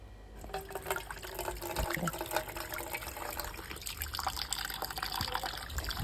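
Water from washed sardines is poured onto a chili seedling, a steady splashing gush lasting several seconds without pause, close and fairly loud, with no voices.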